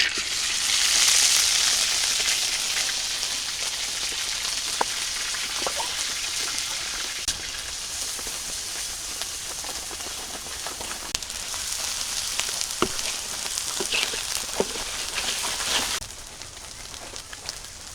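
Ginger, garlic and onion spice paste hits a hot pan and sizzles loudly at first, then settles into a steady crackling fry with scattered pops and clicks, fading quieter near the end.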